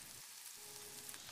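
Finely chopped small onions fry in oil with fenugreek and curry leaves for an onion gravy, giving a brief, faint, steady sizzle with no talking.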